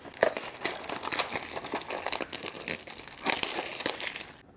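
Crisp plastic wrap crinkles and crackles close up as it is handled on a small sealed Blokees Star Wars Galaxy Version 02 blind box, with sharp bursts of rustling and brief pauses between them.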